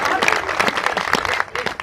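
A poetry recital audience at a comic verse event breaks into a short burst of applause and crowd noise, clapping mixed with voices, close and fairly loud.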